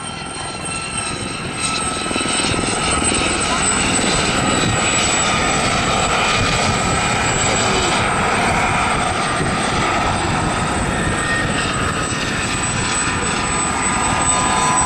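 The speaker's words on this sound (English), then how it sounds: "Coming into the hover now, you'll see them do a few neat routines as they pirouette towards each other." A pair of Gazelle helicopters hover at a seaside airshow in Southport, their rotor and turbine drone loud and steady throughout, with no voices over it.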